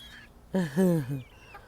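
Close hen calls in a garden: a couple of harsh, honking squawks in quick succession over faint background noise.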